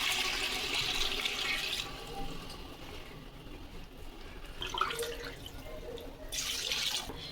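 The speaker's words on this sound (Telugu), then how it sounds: "అదేని ఇంకా మనకి ఎంత ఎక్స్ట్రా కావాలో వాటర్ పోసుకోవాలి." Water pours steadily into a cooking pot for mutton yakhni pulao, a continuous close splashing rush that thins in the middle and swells again near the end.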